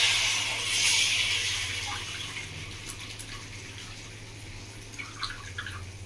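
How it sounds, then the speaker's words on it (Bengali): Spice paste (masala) poured into a pan of singi fish curry (tel jhal) in a Bengali village kitchen, giving a steady wet hiss and splatter that fades to softer sizzling. "এবার মশলাটা মধ্যে ঢেলে দিই।"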